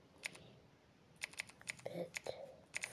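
Quiet, close typing on a phone's emoji keyboard app, light tapping clicks coming in short irregular bursts with pauses between, a faint voice murmuring underneath.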